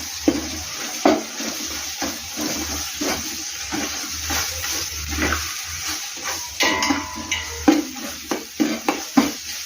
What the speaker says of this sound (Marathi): अद्रक लसूण कोथिंबीरची पेस्ट टाकून घेऊ. ती पूर्ण हलवून घ्यायची.